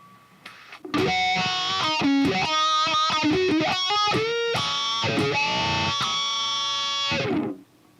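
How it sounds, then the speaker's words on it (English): A distorted electric guitar plays a wah-pedal solo, sweeping and vocal-like bends running in a continuous, loud phrase for about seven seconds before cutting off, with no talking. "the first guitar solo is wah solo up until the tapping part."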